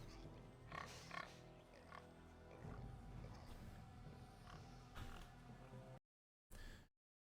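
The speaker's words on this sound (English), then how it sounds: "Oh, it's a pig." Pig grunting and oinking in the video game Jade Empire, a series of short snorting grunts over a low game ambience, followed by silence and one last brief grunt.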